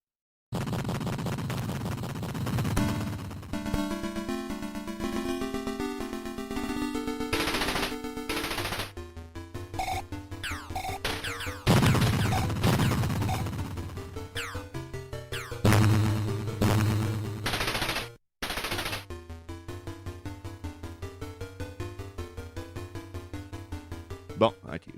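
Gunfire and crashes from a combat racing video game where cars shoot and destroy each other, with rapid bursts, impacts and game music running loudly and almost continuously.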